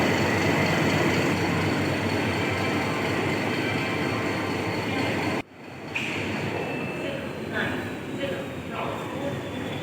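Passenger train 14055 from Mau Junction to Anand Vihar, hauled by the locomotive Vajra, rumbles loudly and continuously. The noise drops abruptly midway, then continues at a lower, steadier level with faint squeals.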